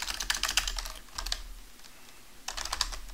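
Quick bursts of typing on a computer keyboard as a Linux command is entered, crisp close clicks in two clusters with a short lull between, no talking.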